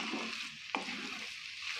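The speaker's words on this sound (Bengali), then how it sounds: "ধনে পাতা আর গরম মশলাটা ভালো করে মিশিয়ে নেব।" Soya keema being stirred in a hot pan with chopped coriander and garam masala, a steady soft sizzle with a single scrape of the spoon midway, quiet and close.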